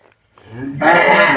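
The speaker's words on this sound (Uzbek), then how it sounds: "Mana xonajin ham zo'r ekan" A heifer at a livestock sale gives one long, loud, close moo that swells and holds to the end, following a brief quieter lead-in.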